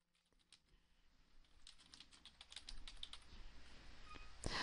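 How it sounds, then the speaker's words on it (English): Soft keystrokes on a computer keyboard as a message is typed, a quiet close run of clicks building slightly louder toward the end with a sharper final tap. "and type in your message."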